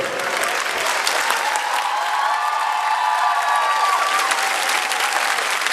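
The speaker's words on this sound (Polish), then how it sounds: "Brawa dla działaczy, którzy poświęcają czas, jeżdżą na mecze, przygotowują wszelkie imprezy." Dense, steady applause for volleyball club officials at a team championship celebration, holding evenly at full strength from start to finish. A faint whistle-like tone rises through the middle of it.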